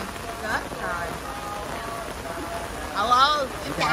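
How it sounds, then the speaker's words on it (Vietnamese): Rain pouring steadily as a broad hiss, with people talking over it throughout. "Mưa mày ơi"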